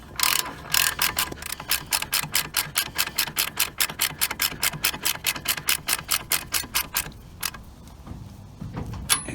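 A ratchet wrench clicks rapidly and evenly as it tightens a camber adjustment nut on a 1936 Chevy coupe, dozens of crisp close pawl clicks in a steady rhythm, slowing and stopping near the end.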